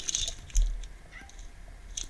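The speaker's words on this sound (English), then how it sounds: "As my cat Molly tells me just how hungry she isn't" A hungry cat meows a few short, sharp times indoors, close to the microphone, with a soft thud in between and no talking.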